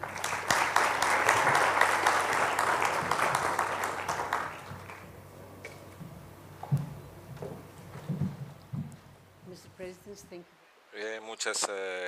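Conference audience applause at an endocrinology congress in Peru, a full burst of clapping for about four seconds that thins into scattered claps and room noise before a speaker begins.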